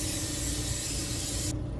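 Butter-flavored non-stick cooking spray hisses onto a pan in one steady, loud burst lasting well over a second, then cuts off abruptly.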